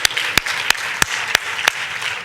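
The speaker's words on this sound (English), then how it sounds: "So let's give them a very big round of applause." A crowd at a panel event on reconciliation, equity and accessibility in granting claps for the panelists in a dense, even patter. Sharp periodic cracks cut through it, and it continues at moderate loudness for a couple of seconds.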